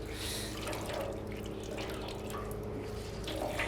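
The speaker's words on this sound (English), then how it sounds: "wring that out with your hands, just really gently" Water drips and trickles steadily from wet laundry being wrung out by hand while washing clothes in the 1920s way, the sound soft and close with no speech over it.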